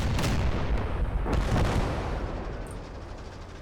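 Artillery bombardment in the Call To Arms: Gates of Hell game, a dense rumble of booming blasts and rolling explosions that keeps going without a break and eases slightly toward the end, with no voices.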